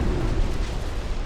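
Torpedoes strike a warship in Ultimate Admiral: Dreadnoughts, producing a loud, deep rumbling explosion that holds heavy low boom throughout a short burst.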